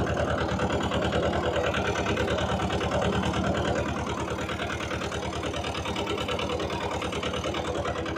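A tractor engine idles steadily in a farm field at corn sowing time, its low rhythmic chug close and continuous throughout, with no talking.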